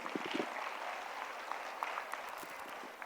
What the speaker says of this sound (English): A big round of applause to you.